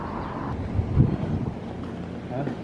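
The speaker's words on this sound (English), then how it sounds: "It's really windy, so you probably can't hear this" Strong gusty wind blows across the microphone on a downtown street in Everett, rumbling and buffeting in uneven bursts, loudest around the middle, with no clear speech.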